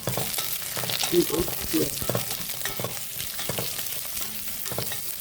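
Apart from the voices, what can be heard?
chopped onion frying in pan for chicken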